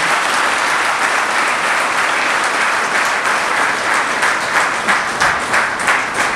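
A gathered audience applauds together, a steady, fairly loud wash of many hands clapping that carries on throughout with slight swells near the end.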